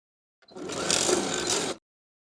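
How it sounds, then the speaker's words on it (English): A sewing machine runs a dense zigzag stitch along a swimsuit band near the clasp piece, a single steady burst of rapid whirring lasting just over a second, close and alone. "Then we'll zigzag in place with a dense zigzag as before, close to the clasp piece on the inside of the band."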